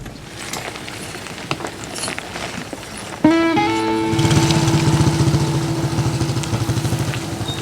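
A motorbike-like engine starts up close behind on an overgrown track in Angola's Iona National Park, then idles and revs with a pulsing putter, loud and near after a few quieter scuffs.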